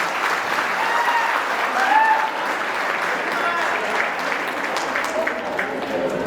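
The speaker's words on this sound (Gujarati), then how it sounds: "જોરદાર તાળી" An audience at a Gujarati-medium school reunion event claps steadily for several seconds, a dense, sustained round of applause from a crowd indoors, even in loudness throughout.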